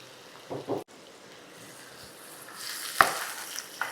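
Finely chopped onions tipped into hot oil with fennel seeds for a squid thokku, giving a steady hissing sizzle that swells toward the end, with a couple of short clanks and scrapes from a utensil; no one speaks.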